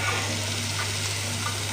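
Potatoes frying in a pan for aloo bhaji, a steady, dense sizzle with a constant low hum beneath it, close and even throughout with no voices.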